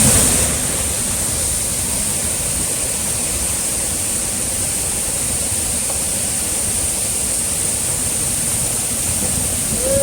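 Kaveri river water rushing over the Hogenakkal waterfalls, a steady, loud, broadband roar of falling water that continues without a break from start to finish.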